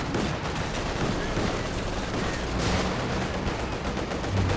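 Dense gunfire and rocket blasts from a Company of Heroes 2 battle, including Raketenwerfer fire, form a continuous loud wall of shots and explosions with no clear gaps.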